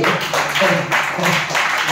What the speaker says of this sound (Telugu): గట్టిగా చప్పట్లు కొడుతుంది వాళ్ళు